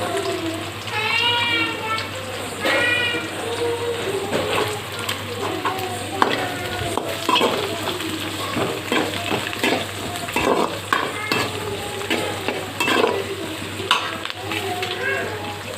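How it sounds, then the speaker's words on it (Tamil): Onion, green chili and beans stir-fried in a pan for egg fried rice: steady sizzling and frying with scraping, stirring strokes throughout, up close, with a voice talking over it. "வெங்காயம், பச்சை மிளகாய் லைட்டாக வதங்கிடுச்சு. இப்போ நான் பீன்ஸ் போடுறேன்."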